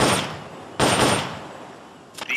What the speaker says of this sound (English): The M16's a standard assault rifle.